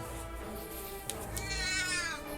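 A cat meows in a house, a rising drawn-out call over steady background hum.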